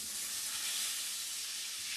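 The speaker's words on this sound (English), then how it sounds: "So I'm sure you can hear that sizzle going on" Chicken pieces sizzle in a frying pan in a home kitchen, a soft, steady broadband hiss that stays even and fairly faint for the whole stretch, with no talking.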